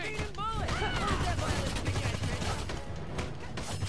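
Enemies fire guns at a distance in the brawler video game Young Justice: Legacy, producing rapid, dense, crackling shots under busy game effects. Someone talks over much of the action.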